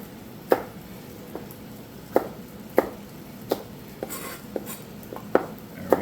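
A knife coarsely chopping a bell pepper on a cutting board, irregular sharp knocks about once every half second to second, close and clear with no talking.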